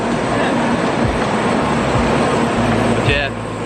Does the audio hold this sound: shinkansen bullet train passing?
yes